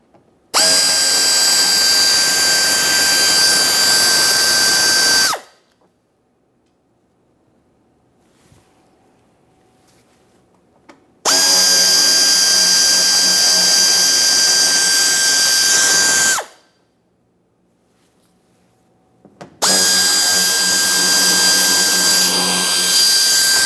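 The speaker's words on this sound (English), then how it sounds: "using a T15 to remove all 3 of these mounting bolt" A power tool with a T15 bit drives out bumper-area mounting screws on a 2017-2024 GMC Acadia: three loud, close bursts of steady high whine, each several seconds long, separated by near silence.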